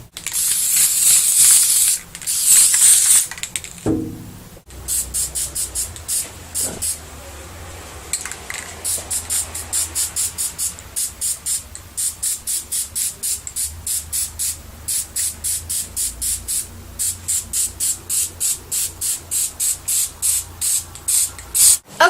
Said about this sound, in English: we're just going to be spray painting both pieces white